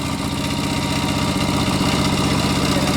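A steady, close tractor engine idles and rumbles continuously, with a low knocking vibration and no talking.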